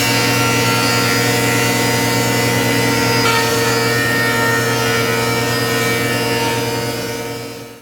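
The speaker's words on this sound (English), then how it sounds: "I'm moving over to my thickness planer here where I'm going to be planing it to the final thickness that I'm looking for" A thickness planer feeds red oak boards down to final thickness, a loud, steady machine whine and roar holding continuously for about eight seconds before starting to fade at the end, no voices over it.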